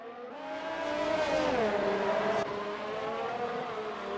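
Formula 1 cars racing at the Singapore GP in a video game, engines howling at high pitch with rising and falling revs as cars run close together, steady and loud throughout.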